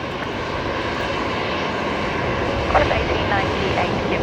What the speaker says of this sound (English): Immediate takeoff there for the Max 8.